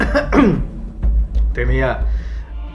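One person coughs and clears their throat a couple of times in quick, close, loud bursts, mixed in with their speech.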